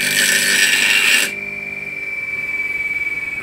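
A blunt gouge being sharpened while making a metal mitre plane, a loud steady grinding rasp for just over a second that cuts off abruptly, leaving a fainter sustained whine alone afterward.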